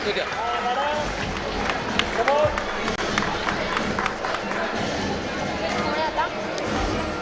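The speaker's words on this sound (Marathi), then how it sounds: "टाळ्या होऊन जाऊ देत मॅडमसाठी" Audience at the opening of a children's literature conference in Marathi applauding a woman, with sustained clapping and crowd noise filling the room, steady and moderately loud throughout.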